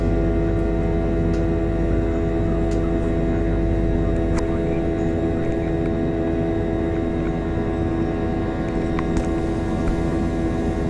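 Boeing 737-300 airliner waiting on the runway at Memphis before taxiing, with a loud, steady turbine whine and hum filling the cabin and a few faint clicks.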